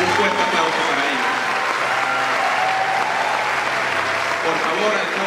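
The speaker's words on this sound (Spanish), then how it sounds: "Un fuerte aplauso para ellos." Loud, dense audience applause for a choir at a choral concert of Handel's Messiah, continuous clapping from a large crowd holding steady throughout, with a voice briefly audible beneath it.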